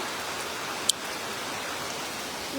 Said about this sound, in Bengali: এত বৃষ্টি হচ্ছে এত বৃষ্টি হচ্ছে